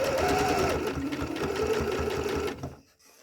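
A sewing machine stitches a buttonhole with a steady, loud mechanical whir for about two and a half seconds, then stops abruptly, leaving near silence.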